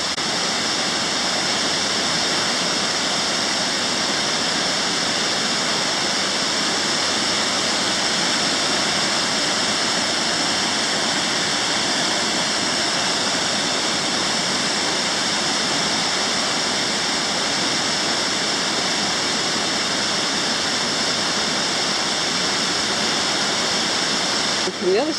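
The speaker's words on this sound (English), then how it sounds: "And here are the falls, the lower falls. That's a lot of water pouring down there." The lower falls of a waterfall roar as a dense, steady rush of pouring water heard up close from a bridge, loud and unbroken throughout.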